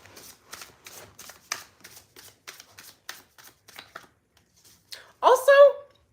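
A deck of animal oracle cards is shuffled in quick, regular riffling bursts, close and crisp, before a voice speaks at the end.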